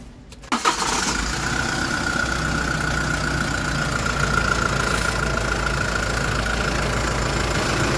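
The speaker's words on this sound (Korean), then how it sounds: "자 일단 시동 한 걸어 보겠습니다" Kia Bongo 3 truck engine cranks and catches after a brief moment, then settles into a steady, fairly quiet idle with a faint whine on top.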